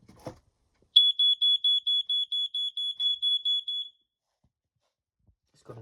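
A smoke alarm under test, sounding much like a BRK 86RAC, gives a loud, piercing, high-pitched beeping of about a dozen rapid pulses over three seconds, then cuts off into quiet.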